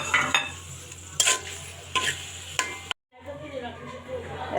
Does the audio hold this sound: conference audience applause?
no